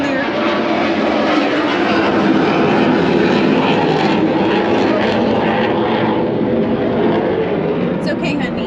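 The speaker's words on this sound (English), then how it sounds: "It's just a jet. Just a fighter jets. Just our U.S. Navy keeping us safe with their routine runs." U.S. Navy fighter jets pass overhead on a routine run near Whidbey Island on the Pacific Northwest coast, a loud continuous roar that holds steady throughout, with a voice faintly underneath.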